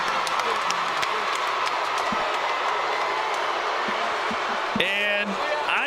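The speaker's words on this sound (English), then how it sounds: "The crowd showing their approval and their appreciation" A boxing arena crowd cheers and applauds as a dense, continuous roar with scattered claps and thumps, while commentators talk over it.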